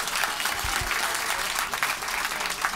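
Applause from a comedy club audience at the Comedy Store in London: a full, continuous burst of clapping, fairly loud and close, with no voices over it.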